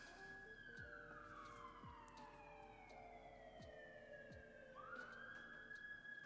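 Emergency vehicle sirens wail outside, faint and distant, their pitch sweeping slowly up and down over a low, steady background hum.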